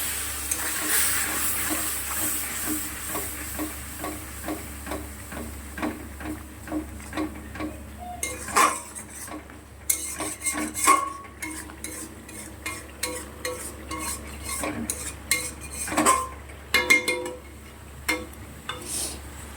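Masala spices with chili powder and a splash of water being stirred and fried in a pan, with a spatula scraping and clicking repeatedly over a low, constant sizzle, close up and without talk.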